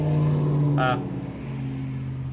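A car engine runs warm during tuning sweeps, a steady idle-like hum with a steady pitch, broken by a brief higher-pitched burst and then settling back, without speech.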